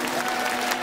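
Steady, dense clapping from a crowd at a Tokyo Game Show 2024 stage event, a continuous wash of applause with no voices standing out.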